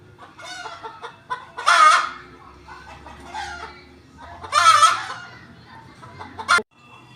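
A rooster and hens cluck close by in a farmyard where cats are watching a hen, with two loud, raspy bursts of calls rising over softer, steady clucking and no talk.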